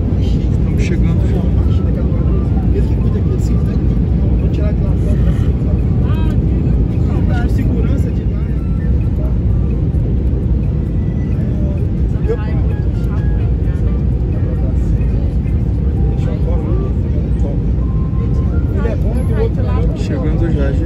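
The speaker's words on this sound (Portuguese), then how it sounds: "Estamos quase pousando." Loud, constant airplane cabin roar during the landing approach to Belo Horizonte in turbulence, a dense steady engine and airflow rumble filling the whole stretch with no letup.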